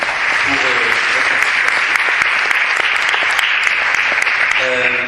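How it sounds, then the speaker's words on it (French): Sustained applause from a crowd, dense steady clapping filling the whole stretch, with a brief murmur of voices near the start and end. "Je peux vous applaudir hein"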